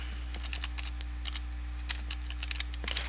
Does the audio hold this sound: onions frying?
no